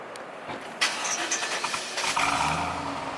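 A bus engine cranks and catches, then settles into a steady running rumble with a slight rev, close and fairly loud.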